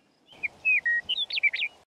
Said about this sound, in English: I utilized a bird call I recorded on the bluffs outside Denver,